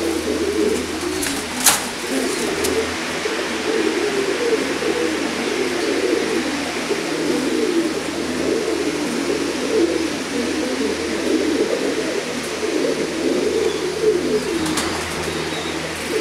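Pigeons of an Indian Chennai-type breed coo steadily at a seller's coop, low soft throaty calls overlapping throughout, with occasional brief sharp clicks and no talk.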